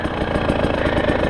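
A 2018 KTM 300 Six Days edition dirt bike idles close by, giving a short, steady engine note with quick regular pulsing and no talk.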